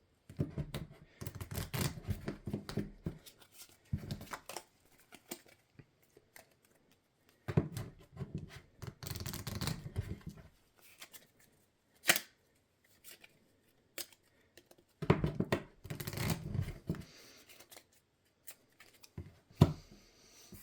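A deck of cards is shuffled in several quick riffling bursts separated by quiet pauses, close and soft, during a Pixel Powers tabletop game.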